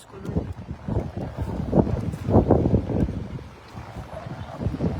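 Strong wind buffeting the microphone outdoors during a fire, gusting in uneven low rumbling surges, loud and close, easing briefly before picking up again.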